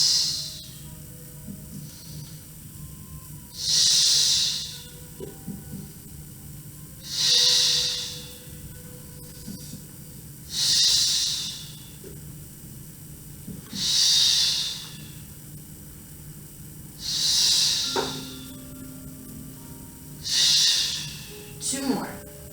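Slow, steady exhalations during a floor matwork exercise with a flex band, seven long breathy whooshes spaced a few seconds apart, close and fairly loud, with quiet pauses between them.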